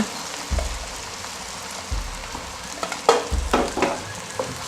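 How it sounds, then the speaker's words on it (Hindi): Cumin seeds sizzle in hot oil in a pan for aloo gobi, a close crackling fry broken by a few low thumps and stirring scrapes, with no voices. "थोड़ा सा मैं 1 टीस्पून मैं इसमें डालूँगी ज़ीरा।"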